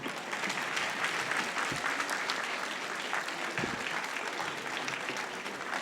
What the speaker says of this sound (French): et applaudissez vos enfants